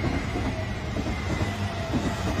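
Train rolling past at close range, a steady loud rumble of wheels on rails with a faint rhythmic clatter, continuous for the whole stretch.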